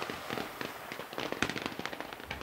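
Rapid crackling bursts of gunfire ring out in the video game Generation Zero, sharp repeated shots in an irregular stream at moderate volume.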